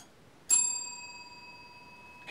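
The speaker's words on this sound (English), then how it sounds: "You can copy me and ring the bell." A single bright ring of a small bell, struck once and left to ring out with a long, thinning metallic tone in an otherwise quiet room.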